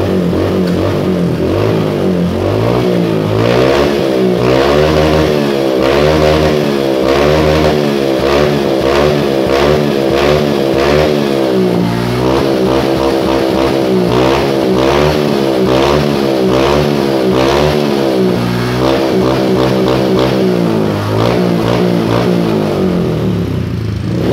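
A bored-up Honda BeAT fuel-injected motorcycle engine with a 52.4 mm piston revs loudly and repeatedly, rising and falling in pitch in close bursts over a continuous running rumble, with no talking.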